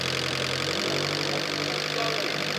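A car engine idles with a steady, continuous rattle, like something loose or broken, holding constant loudness throughout with no pauses.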